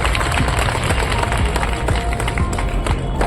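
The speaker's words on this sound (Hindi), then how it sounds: "तालियां बजती रहनी चाहिए।" A crowd at a Civil Defence Day ceremony claps continuously in dense, loud applause, with many overlapping hand claps filling the space and faint voices mixed in.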